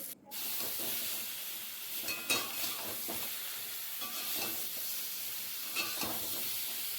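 Ridge gourd and potato with green chillies and salt frying in a pan, giving a steady close sizzle with scattered scraping stir strokes and occasional louder clatters.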